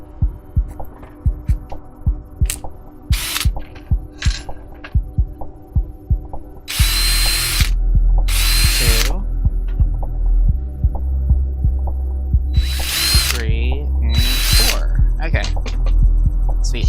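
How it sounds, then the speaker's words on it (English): A power drill with drill bits bores holes in short whirring bursts, loud and close, separated by quieter tapping and handling noises over a steady low electrical hum. "I already grabbed the drill bits"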